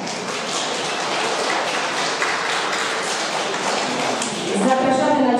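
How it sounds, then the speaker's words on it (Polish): Continuous clapping from a kindergarten audience honouring siblings at a Grandparents' Day show, a thick even wash of applause that holds steady throughout, with a voice starting to speak over it near the end. "I bracia i siostry też duże brawa"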